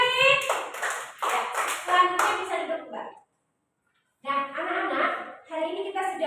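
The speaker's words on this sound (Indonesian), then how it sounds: "Ya, beri tepuk tangan lagi." Children clap in a classroom, bursts of hand claps mixed with young voices and chatter, broken by a second of silence before more clapping and talk resume.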